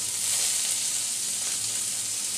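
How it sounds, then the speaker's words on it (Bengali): Chopped onion and thinly sliced garlic frying in oil in a pan, a bright, steady sizzle and hiss heard up close with no talking. "পেঁয়াজ আর রসুন হালকা ভাজা হয়ে গেছে"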